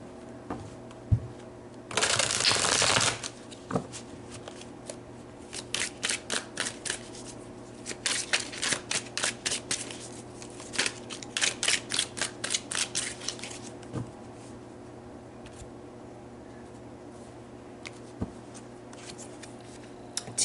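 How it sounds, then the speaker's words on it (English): Oracle cards for an angel-message reading are handled close up, starting with a loud burst of riffling and then moving into repeated runs of quick, crisp flicks with short pauses between them, and nobody speaks. "So let's pull some more cards here."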